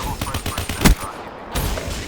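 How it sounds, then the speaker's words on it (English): HG40 submachine gun firing in a first-person shooter match, a rapid automatic burst of close shots, then a short pause before firing resumes, with a player talking faintly underneath. "Using the HG40 right now. I love this gun."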